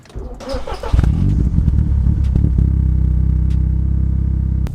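A MK6 Volkswagen Golf R engine with a Cobra exhaust cranks and fires up, then settles into a loud, throaty, rumbling idle with a steady pulsing exhaust note.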